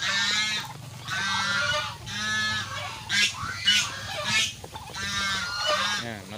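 A flock of brown Dekalb chickens gives loud, repeated honking calls that overlap one after another, close and continuous.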